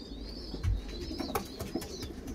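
Racing pigeon, a strong bird bred from 2020 stock, coos in a loft, a low soft coo rising briefly over a steady background of faint chirps and ambient noise.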